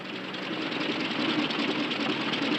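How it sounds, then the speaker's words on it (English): An airplane engine in flight with engine trouble gives a steady, loud droning rattle with a rough, buzzing texture and no speech over it. "Engine trouble, sir."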